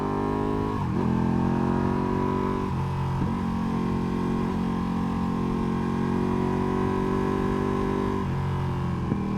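Engine of a 2016 Ducati Panigale sport motorcycle droning at high revs, loud and continuous, with pitch dropping and climbing again at a few gear changes.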